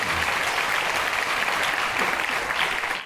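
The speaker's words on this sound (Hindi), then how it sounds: "आप सब ताली इसलिए बजा रहे हैं" Steady audience applause fills the whole stretch, a dense crowd clapping continuously at even loudness, fading slightly at the very end, with no voices over it.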